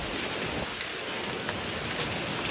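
Heavy thunderstorm rain pours down in Iowa, a dense, even hiss of drops hitting surfaces that holds steady throughout with no voices.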